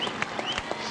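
Crowd lining the 1983 London Marathon course applauds steadily as runners pass, a dense wash of clapping with a few sharper claps standing out.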